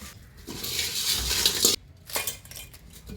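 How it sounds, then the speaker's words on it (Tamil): Soaked crab is strained out of turmeric and salt water, with metal utensils clattering and water sloshing in a strainer. The sound comes in two bursts of rattling, wet scraping, close up and with no speech. "அதுலேருந்து இப்போ நண்டை வடிகட்டி எடுத்துப்போம்"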